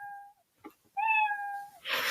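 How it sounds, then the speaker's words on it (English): The default cartoon cat meow from the Scratch coding program, a single clear, bright meow rising and then sustained. A shorter, fainter mew-like tone comes just before it, and a brief hiss of noise follows. "So right now the basic one is meow because it's a cat."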